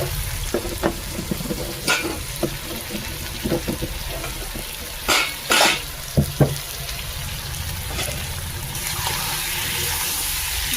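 Spiced potato and eggplant, coated in turmeric and masala, are stirred around a pan for an eggplant curry. A low sizzle runs under repeated scraping spoon strokes, with a few louder clattering scrapes midway and no talking.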